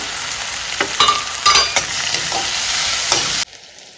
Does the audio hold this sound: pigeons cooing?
no